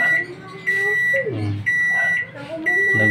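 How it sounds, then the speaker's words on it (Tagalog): A digital microwave oven that has power but does not heat sounds a steady high electronic buzzer in repeated long tones, with a person talking over and between them. "Nag-buzzer siya."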